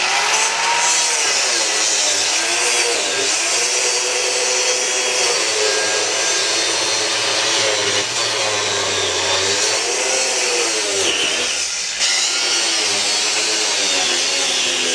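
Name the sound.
grinder cutoff wheel cutting metal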